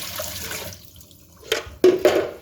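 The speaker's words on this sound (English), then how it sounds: "the tank is nearly half full. So just pour it away down the sink," Water from a 10-litre Meaco dehumidifier tank pours down a sink, splashing loudly in two close gushes after a quieter moment.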